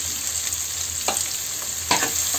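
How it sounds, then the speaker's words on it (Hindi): Onions sizzle and fry in leftover oil with panch phoron, a steady close hiss with two brief louder crackles as they are stirred, and no voices. "प्याज को अच्छे से फ्राई कर लेना है।"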